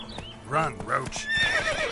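Roach, a horse in The Witcher video game, whinnies loudly in a short burst with clip-clop hoofbeats underneath, close and clear.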